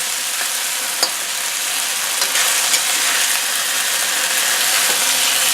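Garlic and beef frying in a wok give off a loud, constant sizzle, with occasional scrapes and taps from stirring cutting through the steady hiss.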